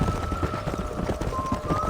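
Horse hooves clip-clop in a steady, fairly loud rhythm in the Red Dead Redemption 2 video game, with no talking over them.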